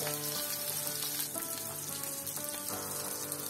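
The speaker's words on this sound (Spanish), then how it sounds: "Vamos a necesitar 2 cucharadas de manteca, 300 gramos de longaniza y lo vamos a dejar freír." Longaniza sausage sizzles in lard in a pan, a steady, soft, crackling fry that goes on throughout with no talk.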